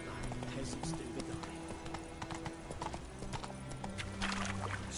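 Roach the horse gallops in The Witcher 3, hooves clip-clopping in a quick steady rhythm, close and loud over a busy game soundscape with music, and a brief whinny.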